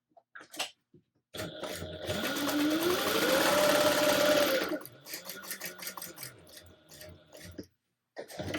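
A sewing machine stitching a handbag runs in one sustained, loud burst of rapid mechanical whirring for about three seconds, followed by shorter uneven stitching runs and clicks, alone without talk.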